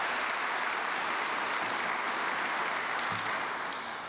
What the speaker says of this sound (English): please give another round of applause to Jeff Schwartz.